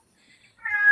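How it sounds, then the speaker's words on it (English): A cat meows once near the end, a rising tonal call that starts after a stretch of near silence with faint background sound, close and moderately loud. "who's got the cat?"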